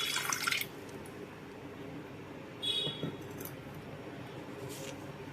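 Water is poured from a cup into maida flour for poli dough in a home kitchen, with two short splashing bursts close by and quiet pauses between them.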